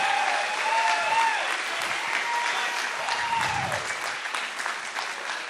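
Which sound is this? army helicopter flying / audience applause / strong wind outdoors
audience applause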